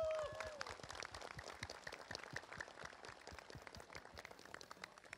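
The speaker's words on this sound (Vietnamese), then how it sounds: "Một tràng pháo tay" Applause breaks out from a crowd at a Vovinam martial-arts group demonstration, a fairly faint, even patter of many hands clapping at a distance, with a brief voice at the very start.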